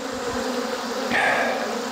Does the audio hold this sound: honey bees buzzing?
yes